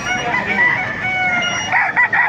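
A rooster crows loudly nearby, its drawn-out call rising over a busy background of other fowl clucking and crowing at a market in Baliuag.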